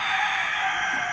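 A gamecock crows loudly and close, one sustained cock-a-doodle-doo cry filling the moment with no talk over it.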